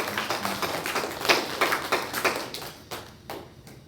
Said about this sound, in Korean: 우리 함께 우리 하나님께 영광의 박수를, 우리 찬양대의 격려의 박수를